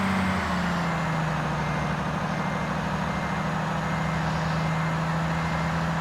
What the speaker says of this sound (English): This truck is always very loud.